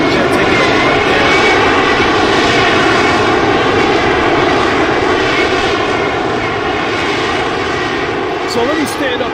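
An F/A-18 jet engine roars on an aircraft carrier deck in a VR flight game, a loud, steady, continuous whine and rumble that holds throughout.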